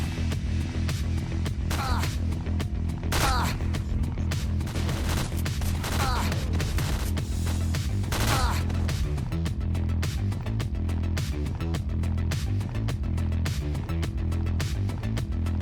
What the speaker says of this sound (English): Armed with my sniper PP-19, I mow people down until I start believing I'm immortal